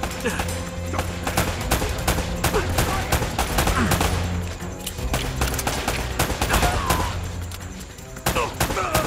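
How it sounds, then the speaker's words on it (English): Dense gunfire from the video game Uncharted, with rapid overlapping shots and bursts in steady volleys throughout, over a constant rumbling game soundtrack with faint voices underneath. "Seem to be getting shot at."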